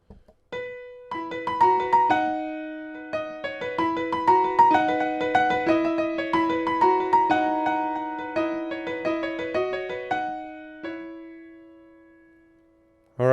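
Solo piano plays a gentle melodic intro, clear single notes over a repeating low pattern, ringing out and fading at the end.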